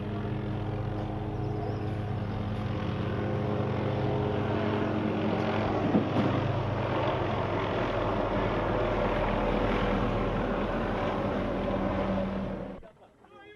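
Military helicopters drone loudly and steadily as they land soldiers on the rooftop of a shopping mall during a terrorist attack in Nairobi, the rotor roar filling the scene before cutting off abruptly at the end.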